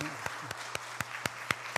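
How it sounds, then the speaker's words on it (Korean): Sharp claps ring out at a steady pace, about four per second, over a continuous room hum; a short burst of applause from a church congregation at a general meeting in an indoor hall. "큰 존경의 박수, 또 감사의 박수로"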